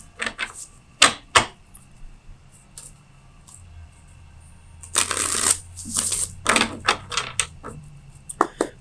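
Tarot cards handled at a reading: a couple of sharp snaps, then a longer burst of riffling, shuffling card sounds with slaps and flutters, close and fairly loud, no talking.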